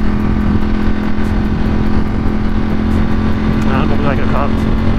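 Ducati Streetfighter motorcycle with a new 520 chain and sprocket being ridden, its engine a loud steady drone with wind rush throughout, and a rider talking over it partway.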